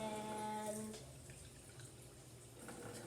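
Water poured in quick pours while making bubbly slime, a short liquid splash and trickle followed by softer dripping and gurgling, fairly faint and close.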